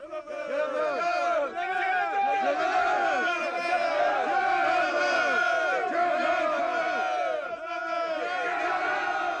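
A large medieval crowd roars a unison battle cry, a dense mass of many voices shouting together, loud and sustained throughout with a brief dip near the end.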